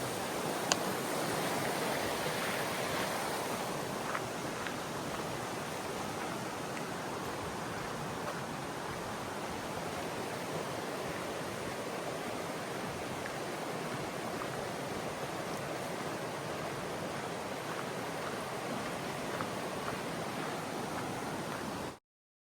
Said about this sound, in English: I was just walking along listening to this river